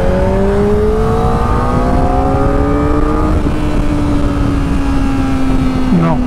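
Kawasaki ZX-4RR motorcycle engine rising in pitch as it accelerates, over heavy wind roar from riding, loud and close; a short voice is heard near the end.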